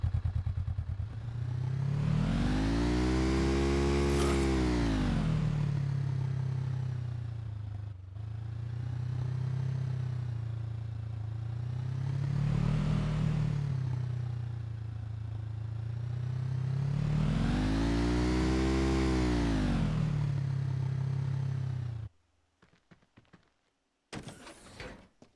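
A motorcycle engine from Final Fantasy VII: The First Soldier drones loudly and continuously, rising and falling in several long revving swells before cutting off into a few brief clattering sounds near the end.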